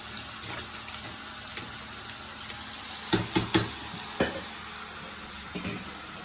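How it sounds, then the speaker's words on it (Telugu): Crab and gongura curry cooking down in a pan, a soft steady bubbling sizzle close by, with a few sharp clanks of a spoon or ladle against the pan partway through and no voices. "ఇదిగోండి పీతలు అయితే ఇటు సైడ్ ఉడుకుతుంది"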